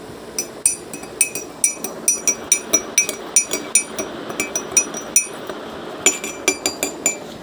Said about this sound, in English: In the second, we'll dissolve spoonful of sugar.